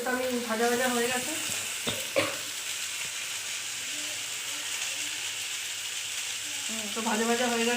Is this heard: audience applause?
no